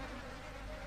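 Flies buzzing around a corpse in the horror video game Outlast, a faint continuous insect drone, steady and low in level, with no talk.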